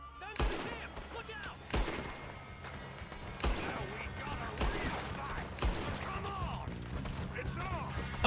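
Gunfire rings out in the video game Red Dead, a series of sharp shots spaced about a second apart over a steady ambient background, with voices talking in between.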